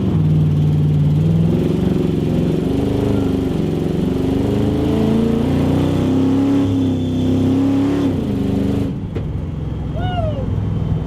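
A 300-horsepower Pontiac Firebird pulls hard through the gears on a back road, its engine note climbing loud and continuous, then cutting off abruptly near the end as the revs drop away.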